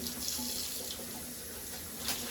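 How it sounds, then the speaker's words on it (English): A kitchen sink tap runs steadily while pine needles are rinsed under clear water, a close, even splashing stream with a few brief louder splashes. "And I'm going to rinse them in clear water."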